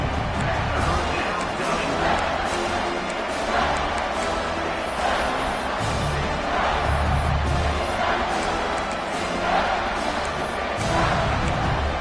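A large stadium crowd at an American football game roars continuously, a dense wall of cheering and noise during a red zone defensive stand, with a commentator speaking over it.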